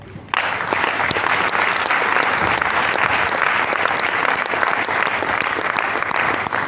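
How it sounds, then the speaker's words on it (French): A conference audience breaks into sustained applause, a dense, even wash of clapping starting abruptly and continuing at steady loudness, with no talk over it. "Les applaudissements sont faits, bien."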